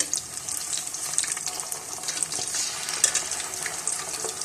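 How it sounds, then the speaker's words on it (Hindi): Crispy fish frying in a pan over a medium flame gives a continuous close, crackling sizzle with small pops scattered throughout, and no voices. "मीडियम फ्लेम पे आप फिश को फ्राई करें"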